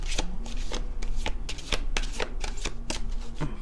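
Oracle chakra cards are shuffled by hand in a quick, rhythmic series of crisp riffling slaps, close and loud, repeating steadily for several seconds without any talking.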